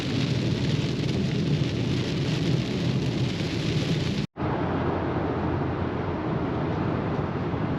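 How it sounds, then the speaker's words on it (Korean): Sudden heavy rain pours down during an autumn camping trip, a dense, steady roar of drops on a surface with a brief cut midway, loud and continuous. "무슨 비가 이렇게 오는 거죠 갑자기"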